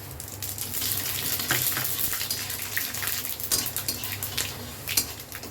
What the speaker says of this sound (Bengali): তেলটা ভালো মতো গরম হয়ে গেছে খুব ভালো করে গরম করে নিতে হবে এবার দিচ্ছি একটু পাঁচফোড়ন